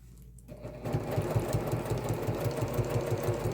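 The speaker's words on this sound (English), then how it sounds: "I'm going to stitch all the way around this." A sewing machine stitches binding around a messenger bag, starting after a brief quiet moment into a rapid, even mechanical chatter that stays close and steady to the end.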